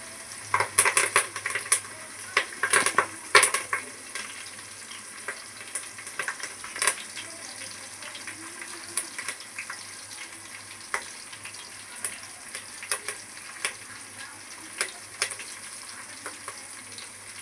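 Ginger garlic paste, curry leaves and green chillies sizzle in hot oil for a pulao, a steady crackling fry with sharp pops and spatters, loudest near the start, then settling into continuous sizzling with scattered spits.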